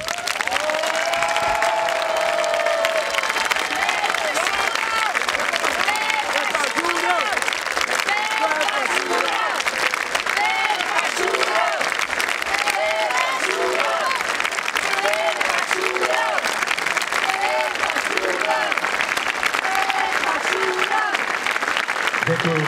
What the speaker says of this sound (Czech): tak mu pojďme věnovat 30 vteřin báječného potlesku